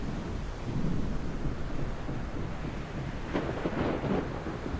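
Video game thunderstorm at sea aboard a ship, steady rain and wind with low rolling thunder rumbles building toward a louder crack near the end, no voices.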